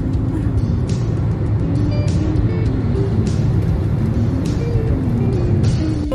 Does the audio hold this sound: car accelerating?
yes